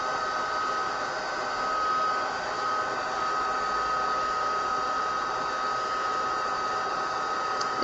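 A heat tool blows steadily for several seconds while clear embossing powder is melted on stamped butterflies, a constant close airy whir with a faint high whine and no talking.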